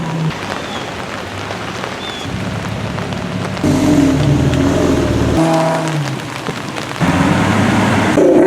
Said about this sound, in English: There's a whole lot more rain and wind.